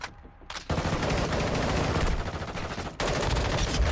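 Rapid automatic gunfire in the mobile shooter Call of Duty: Warzone Mobile, loud, near and sustained bursts broken by a short pause, with no talking.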